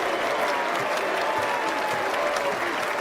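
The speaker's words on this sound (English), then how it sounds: "as the crowd applauding" A basketball arena crowd applauds a tribute to Kobe Bryant with loud, sustained clapping that fills the whole stretch at a steady level.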